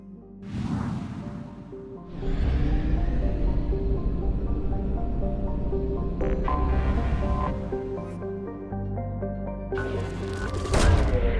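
Planet probes launching in Mass Effect 2 Legendary Edition, several separate whooshing bursts with booming thumps, each followed by a ringing tonal hum under steady game music, no speech.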